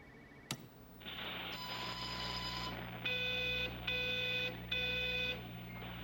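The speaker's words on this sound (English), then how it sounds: "Whose phone's ringing?" A phone rings in the game Everybody's Gone to the Rapture, its electronic trill repeating in three clear bursts with short gaps over a steady low ambient hum, no voices.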